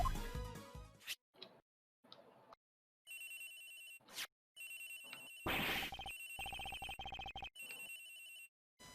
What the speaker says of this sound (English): It's ringing from somewhere, sir!